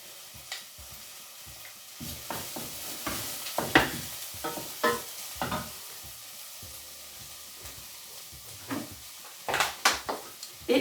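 Garlic sizzling in a pan with courgettes and tomato, a soft steady frying hiss punctuated by irregular clicks and knocks of stirring utensils against the pan, fairly quiet and close.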